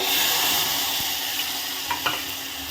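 Garlic frying in hot oil in a pan, a steady close sizzle throughout with a few faint stirring clinks near the end.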